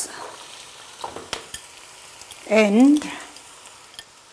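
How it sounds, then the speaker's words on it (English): Garlic and carrots sizzle steadily in a pan while sausage fried rice is being cooked. The frying hiss runs throughout, and a voice briefly speaks partway through. "We put our garlic and also allow it to cook. After that, we add our carrots"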